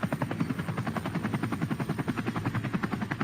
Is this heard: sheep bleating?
no